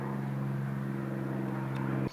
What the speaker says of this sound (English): that old plane flying over